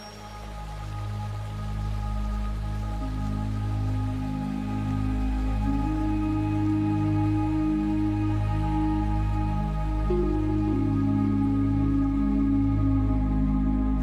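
Monsoon rain falls steadily across the Chambal valley, a dense continuous patter of drops on surfaces, loud and close, with no voices.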